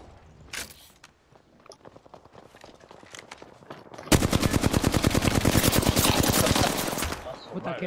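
Video game gunfire with scattered single shots and bursts at first, then a loud, rapid machine-gun stream lasting about three seconds, up close.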